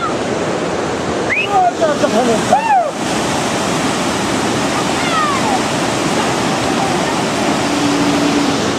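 Flood water rushing down a river channel in a mountain valley, a loud, steady broadband roar that runs the whole time, with brief voices calling out over it early on.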